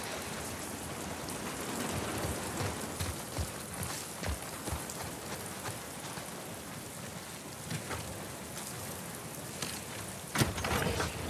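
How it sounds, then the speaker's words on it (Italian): Steady rain falling in the video game The Last of Us Part II, a dense continuous patter of drops with a few sharper splashes, fairly close and even throughout. "Non stiamo sotto la pioggia."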